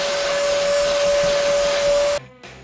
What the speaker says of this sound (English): I'm going to go ahead and vacuum that out.